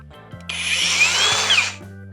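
A Procraft AG125A cordless angle grinder spins up and runs steadily for over a second with a loud high whine and a hum underneath, then winds down.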